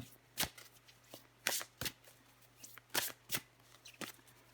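Tarot cards being shuffled by hand, a series of crisp riffling bursts in an irregular rhythm, close and fairly quiet, with no talking.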